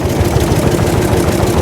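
A 1904 De Dion Bouton veteran car engine works under throttle while climbing a hill, a loud, steady, rough chugging drone with a dense low rumble and mechanical rattle.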